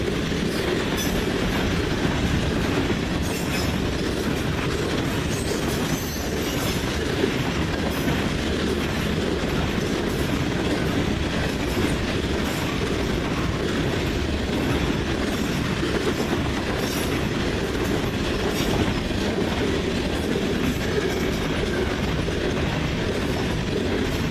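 A CN freight train rolls past in Ladysmith with a BNSF ACE locomotive as distributed power, a loud continuous rumble of wheels and cars with rhythmic clickety-clack throughout, heard alone without talk.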